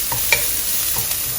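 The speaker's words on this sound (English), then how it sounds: "we'll fry our aromatics now" Chopped shallots and garlic fry in hot oil in a pan for Chinese beef fried rice, giving a steady close sizzle with a couple of brief stirring scrapes and no talk.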